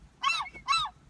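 Two loud, close, nasal honking squawks come in quick succession from seagulls calling while being fed.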